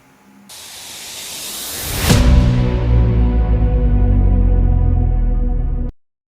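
Close, steady spray of water hisses while a toupee hair system is washed, starting abruptly, swelling as the stream hits, then holding a broad continuous rush before cutting off cleanly.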